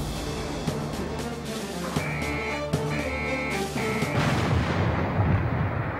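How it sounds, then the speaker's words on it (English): The USS Missouri's 16-inch naval guns fire in rotation, with several heavy, booming reports at uneven intervals over a continuous rumbling background. "fired one 16-inch round every 15 seconds, 9 guns firing in rotation"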